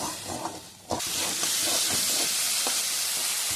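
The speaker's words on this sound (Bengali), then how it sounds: "এবারে দেবো একটু জল। একটুখানি মশলাটা কষিয়ে নেব।" Water hits a pan of spice masala being fried down, bursting into a loud, steady steam hiss and sizzle that holds evenly after a brief quieter lead-in.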